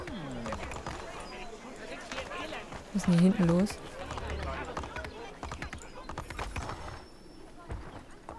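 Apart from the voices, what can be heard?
horse hooves while riding in video game Assassin's Creed 3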